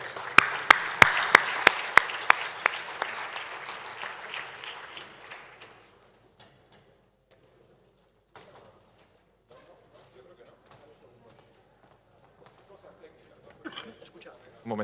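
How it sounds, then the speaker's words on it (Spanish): A seated audience at a round-table discussion on new trade routes to America and Asia bursts into loud, dense applause that fades out after about six seconds, leaving near silence with a few faint shuffles and a brief clatter at the end. "Un aplauso ya sí de verdad para José Ignacio Cuenca"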